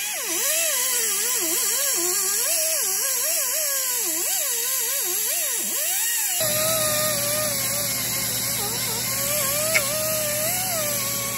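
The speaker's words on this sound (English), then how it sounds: "I was able to kind of scuff around with that grinder on the outside rim and inside center." An angle grinder scuffs paint off the rim of a David Brown 1210 tractor wheel, its close motor whine wobbling and dipping under load, then settling into a steadier, higher drone for the last few seconds.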